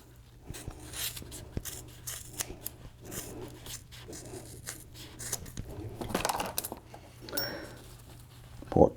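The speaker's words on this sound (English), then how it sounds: "Now, I like to cut a clean edge." Scissors cut through motorcycle exhaust heat wrap up close: a series of crisp snips and fibrous rasps in an uneven rhythm, with a sharper clack at the end.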